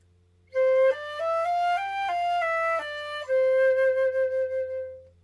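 A flute plays a five-note scale pattern starting on C with all natural notes at a moderate slow tempo, clear and close, stepping up and back down before a final held note, with no talking.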